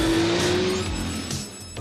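Cartoon car from an animated detective series driving off with a loud engine roar and a brief tire skid, steady and close throughout with no talking.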